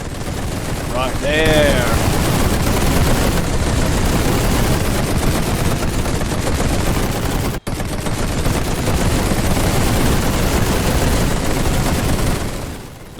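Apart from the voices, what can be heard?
machine gun fire in a video game, The Great War 6.0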